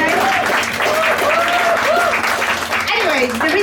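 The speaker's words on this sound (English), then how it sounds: "Can I have an applause, please?" An audience applauds at a comedy science talk, clapping that stays steady throughout while a voice keeps talking over it.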